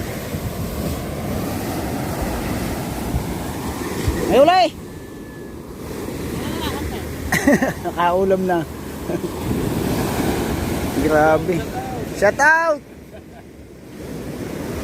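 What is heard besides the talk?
big ocean waves and surf on the shore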